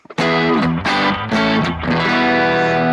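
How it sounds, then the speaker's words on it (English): Electric guitar on the neck pickup at medium gain, run through the spring reverb effect of a BOSS GT-1000 multi-effects unit, playing a few loud sustained distorted chords that ring close and full. "and here we've got a spring reverb"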